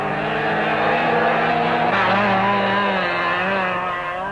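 Classic 1967 cars race flat out around a dusty autocross track, engines roaring loudly and continuously with rising and falling revs as a car passes close by.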